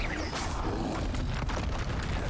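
Confringo spell explosions in Hogwarts Legacy, a dense, loud roaring boom that rumbles steadily throughout with a few sharper bursts on top.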